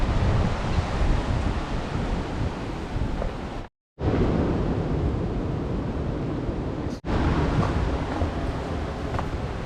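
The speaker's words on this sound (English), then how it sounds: "The waves here do seem to be pretty rough." Rough Andaman Sea waves roar and crash continuously on the Phuket coast, with wind buffeting the microphone and two brief dropouts in the sound.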